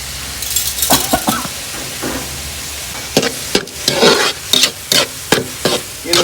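Tomatoes and salt stirred in a hot pan while cooking village-style boneless mutton fry, with a soft continuous sizzle broken by repeated scraping stirs, several sharp bursts toward the end.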